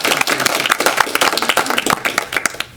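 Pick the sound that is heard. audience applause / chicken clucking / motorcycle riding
audience applause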